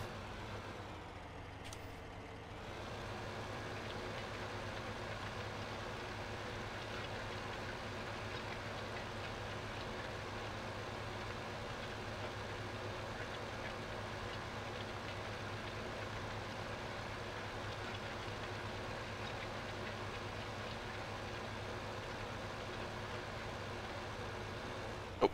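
A tractor pulling a cultivator in Farming Simulator 15 drones with a faint, steady low engine hum that holds unchanged for the whole stretch, with no talk.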